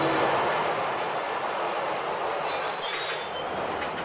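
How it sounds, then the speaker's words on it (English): Rumbling New York City subway train with wheel squeal and rail noise mixed with city traffic, a loud, steady wash of sound that stays constant throughout with no one speaking. "only views of New York City with the sounds of traffic and the subway"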